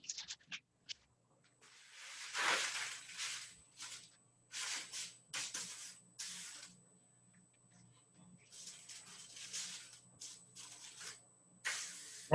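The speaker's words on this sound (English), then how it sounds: "And then I usually spray the corners." Cooking spray hisses onto the corners of a baking sheet in a home kitchen, several short bursts and longer sprays close by, with a faint steady ticking behind.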